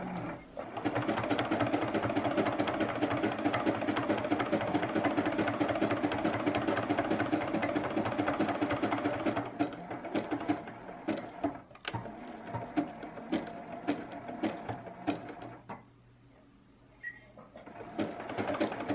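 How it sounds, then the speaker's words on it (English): Sewing machine stitching a fabric rope bowl, a fast steady mechanical whir for about ten seconds, then shorter stop-and-start runs, close and loud. "And then we'll just continue sewing, and I'll backstitch at the end."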